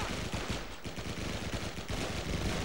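Rapid machine-gun and rifle fire crackle without pause in Call of Duty 2: Big Red One, a dark, rainy night battle, the bursts close and loud and layered over one another.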